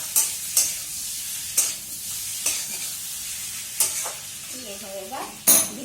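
A spoon scrapes and stirs potatoes frying in spice masala in a pan, a few sharp strokes spaced about a second apart over a soft continuous sizzle, close by.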